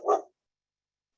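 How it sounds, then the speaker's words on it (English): A single short dog bark indoors, close and fairly loud, then quiet for the rest. "and there's my dog"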